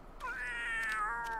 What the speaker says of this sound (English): Oh no, that is a cat.